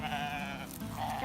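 A single sheep lets out one close, wavering bleat of about a second on a farm with sheep and chickens, with no talking over it.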